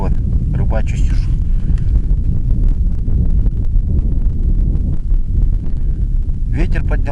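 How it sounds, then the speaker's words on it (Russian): Steady wind blowing over an ice-fishing spot on a frozen lake in Yakutia, a constant low roar buffeting the microphone throughout, with a voice talking in places over it. "Ветер поднялся небольшой"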